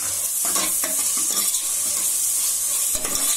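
Thinly sliced tomatoes sautéing with softened onions in a pan for chickpea kurma, a loud steady sizzle with repeated spoon scrapes and clinks against the pan.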